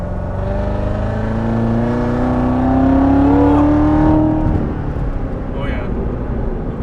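A 2019 Corvette Z06 fitted with a cold air intake accelerates, its engine note climbing in a rising drone from inside the car, loud and sustained before easing off; a voice is faintly present.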